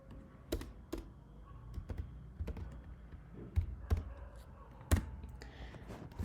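JavaScript code is typed on a computer keyboard, with irregular clusters of close key clicks and a few louder taps against a quiet room background.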